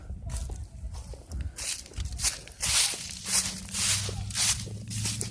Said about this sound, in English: Leaves are crunchy.